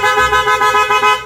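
G-Star horn fitted to a motor scooter, one close, loud, continuous honk with a slightly pulsing tone lasting just over a second.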